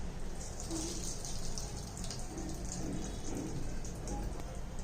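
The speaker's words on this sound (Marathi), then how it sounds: "आपण काय करायचं आहे, यामधलं पाणी पिळून काढायचं" Water squeezed out of freshly grated radish, a steady close trickle and patter of dripping liquid against a soft broadband hiss, with no talking.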